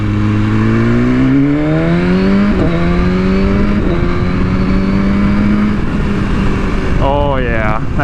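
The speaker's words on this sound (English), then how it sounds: "Oh yeah, that quick shifter." A BMW S1000RR sport motorcycle in race mode accelerates hard, its engine note climbing steadily and dropping sharply at each quick-shifter upshift, loud and close, with a brief burst of rising revs near the end.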